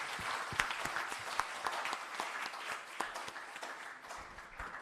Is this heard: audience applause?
yes